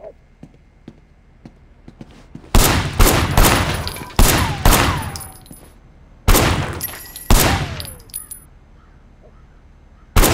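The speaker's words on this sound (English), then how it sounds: "Officer Shen, take up a firing position." Gunfire from the game Sleeping Dogs crackles in several loud, sharp bursts of rapid shots, separated by short quiet gaps.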